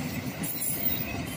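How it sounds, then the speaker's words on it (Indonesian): A steady rumbling rush of a long Jakarta CommuterLine train rolling past, with faint high metallic squeal from the wheels over the continuous noise. "Kereta panjang ya."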